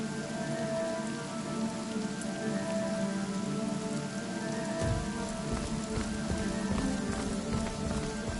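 Steady heavy rain pours in Divinity: Original Sin, a dense, even hiss of drops drumming on surfaces that lasts the whole stretch without a break.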